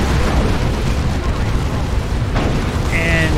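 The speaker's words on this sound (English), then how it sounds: "the frag grenade gets thrown by the scouts, and there goes the Bane Blade" Explosive blast of a Baneblade super-heavy tank being destroyed by a scout squad's frag grenade in Dawn of War 2, a dense rumbling boom under battle noise with a sharp burst partway through and a brief whistling tone at the end.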